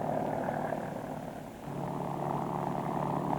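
A Kaman HOK helicopter powered by a Lycoming turbine engine hums and whirs steadily at moderate distance, a continuous droning rotor and turbine tone with a brief dip partway through.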